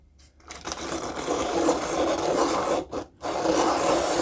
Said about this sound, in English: We'll use a regular deli sharpener for that and see how that does.